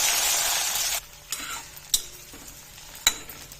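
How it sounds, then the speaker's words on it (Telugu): Brinjal pieces sizzle in hot oil in a pan for about a second, then the frying drops to a soft hiss, broken by a few sharp scrapes and clinks of a spatula stirring. "ముందుగా వంకాయలని నేను కొద్దిగా ఫ్రై చేస్తున్నానండి."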